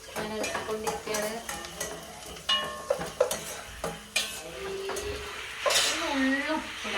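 A spoon scrapes and stirs pasta sauce in a pan on the stove, with soft clinks and a light sizzle under someone talking.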